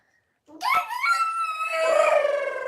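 A voice imitates an elephant's trumpet with a single drawn-out, rising wail that starts abruptly and holds steady to the end, close and fairly loud.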